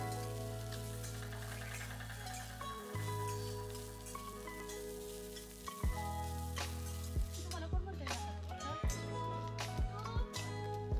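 Chopped onion and grated fresh coconut roast in a pan for a dhaba-style shev bhaji masala, giving a faint, steady crackling sizzle under a humming, tonal background.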